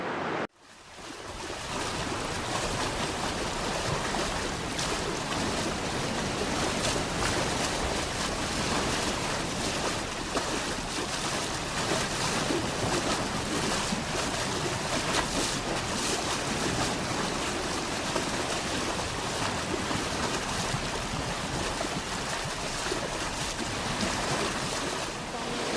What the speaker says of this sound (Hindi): एक तरफ ठंडा पानी की नदी बह रही है और दूसरी तरफ एक गर्म जलधारा